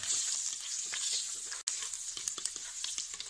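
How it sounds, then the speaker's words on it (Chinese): Minced garlic and ginger sizzling in a little oil in a wok, a steady bright hiss with crackling pops and brief stirring scrapes, close and continuous. "把这个蒜末和姜末倒进去， 炒香一下"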